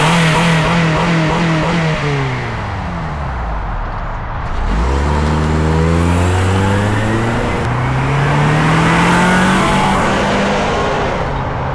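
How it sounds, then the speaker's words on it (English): Honda Stepwagon minivan lapping Silverstone circuit during Japfest, its engine loud and close as it accelerates through repeated gear changes, with rising revs that drop at each upshift, under steady road and wind noise. "We're actually taking the Stepwagon around Silverstone at Japfest 2026."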